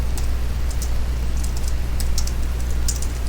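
Someone types on a computer keyboard while writing Go code, light scattered key clicks over a steady low hum, with no voices.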